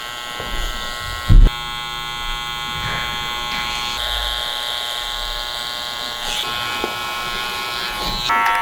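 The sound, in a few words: electric hair clippers shaping the temples during a haircut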